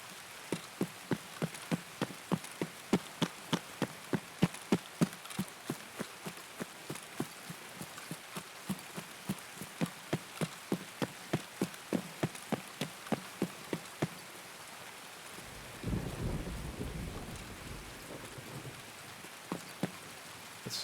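Rain in the video game Escape from Tarkov, a steady patter of drops with a rapid, regular tapping over most of the stretch, then a brief low rumble near the end, with no talk.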